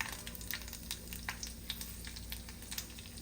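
Chana dal frying in oil in a pan: a continuous, soft crackling sizzle with small pops, faint and steady, with no voices.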